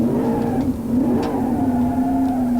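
A simulated BeamNG.drive car engine with a stage 3 super stock block revs in a loud, sustained, steady drone with a slight wavering pitch, close and alone.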